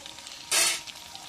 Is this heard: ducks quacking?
no